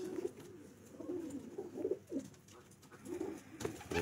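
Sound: pigeons cooing on a rooftop

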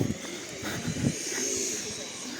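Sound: pigeons cooing

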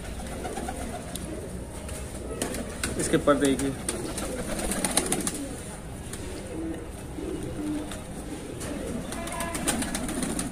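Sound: pigeon cooing

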